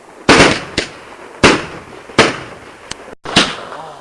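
Fireworks go off on Bonfire Night, five sharp loud bangs in an irregular sequence with short crackling decays, close by.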